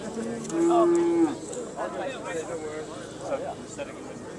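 A cow at a Simmental cattle show in the female class for cows about four years and older gives one loud, close, drawn-out moo, followed by crowd and arena noise with faint voices.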